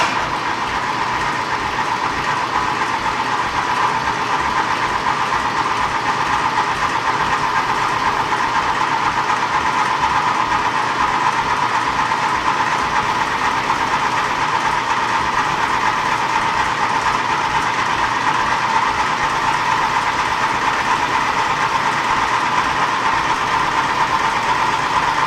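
An engine runs at a steady idle after being cranked, with a continuous droning rumble and a fine rhythmic knock underneath, close and fairly loud, with no voices.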